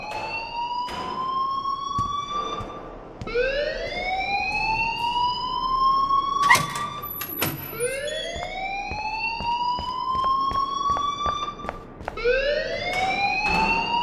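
A school alarm in the video game Life is Strange wails on and on in rising, siren-like sweeps that repeat every few seconds with short breaks between them. It is loud and continuous, with no voices.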